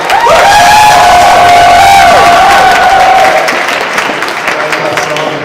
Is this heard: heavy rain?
no